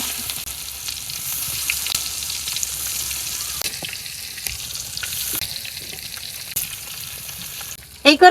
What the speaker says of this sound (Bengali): এবার মাছটা ভাজা পাওয়াই দেই।